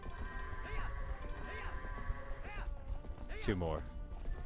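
Horse hooves clip-clopping in a video game, a steady trot alongside neighs and a loud whinny near the end, with a voice talking over them.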